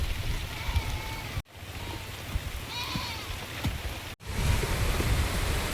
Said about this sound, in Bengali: বৃষ্টিটা খুব জোরই চলে আসলো